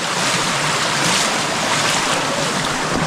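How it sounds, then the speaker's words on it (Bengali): Water from the Rondoyok waterfall flows past on the trail near Thanchi, Bandarban, with the stream running low. The rush is loud, close and unbroken, with a windy hiss and no talk. "ঝর্ণার পানিটা এদিক দিয়ে প্রবাহিত হইতেছে।"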